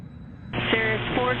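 A Cessna Citation business jet departs from runway 21 at Scottsdale Executive airport, its engine roar rising abruptly and holding steady and loud, with a tower radio voice under it.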